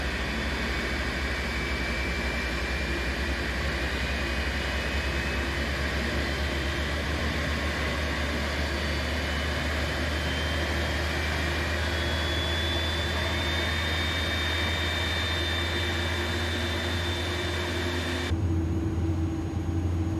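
Airbus A300-600 jet engines in a flight simulator game drone continuously with a deep bass rumble and a thin rising whine, loud and steady throughout, shifting abruptly near the end, with no talk.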